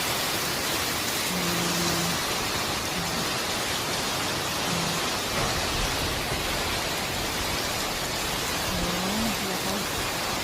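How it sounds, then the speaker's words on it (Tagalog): Typhoon Nando brings a dense, constant roar of heavy rain and wind, loud and unbroken across the whole stretch, with a faint low engine-like hum briefly audible beneath. "Dito na po yung bagyong Nando."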